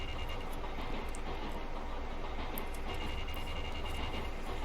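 A steady, continuous rumble of a train ride in the video game The Silver Case, with dense rail noise and no distinct clacks or pauses.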